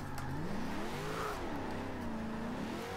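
A Datsun drift car in Forza Horizon 2 revs steadily, its engine pitch rising and falling in smooth sweeps through the gears at moderate distance with no other sounds.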